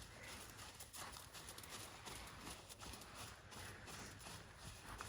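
A horse trots during a training session, its hooves clip-clopping in a steady rhythm over a faint, noisy background.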